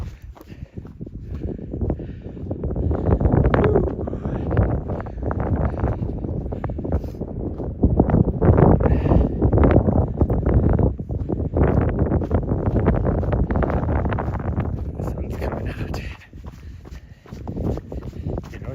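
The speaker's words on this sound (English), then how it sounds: "We're gonna be running into the wind." Wind blows steadily across the microphone during a rainy trail run in Arizona, a loud, continuous rumbling buffet with gusty surges, footsteps faintly beneath.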